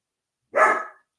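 A dog next door gives a single short, sharp bark, fairly clear against an otherwise silent background.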